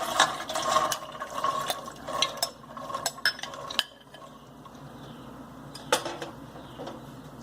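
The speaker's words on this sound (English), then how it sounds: "add chickpeas into the pressure cooker" Chickpeas tumble into a pressure cooker in a run of clattering, pattering hits against the metal, followed by a quieter stretch and one last knock.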